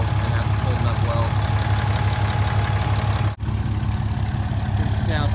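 A deleted 2017 Ram Laramie Cummins diesel truck idles at the tailpipe with a loud, deep, steady rumble and a fine rapid pulsing throb, holding evenly apart from one brief dip.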